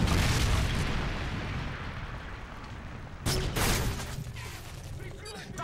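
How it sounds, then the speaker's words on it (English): A Predator missile strikes in Call of Duty, with heavy booming blasts and rumbling gunfire, a loud burst at the start and another sharp explosion partway through amid continuous battle noise. "Friendly Predator missile inbound."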